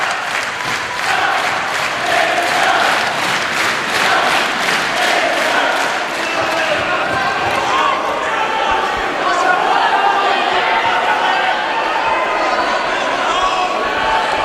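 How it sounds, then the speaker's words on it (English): A pro wrestling crowd at an OTT show roars and cheers loudly and continuously, with rhythmic clapping or chanting early on giving way to a dense, sustained wall of crowd noise. "Listen to the roar of this crowd."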